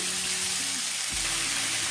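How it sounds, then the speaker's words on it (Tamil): Steady sizzling from ivy gourd sautéing in a hot pan, with a constant crackling hiss and a brief scrape of stirring. "நல்லா ஒரு தடவை வதக்கி விட்டுக்கலாம்."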